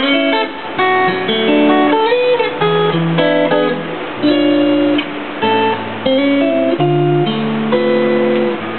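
A Black & Sunburst electric guitar is played unplugged, giving thin, dry acoustic notes and chords in a loose sequence, close and clear with no talk over it.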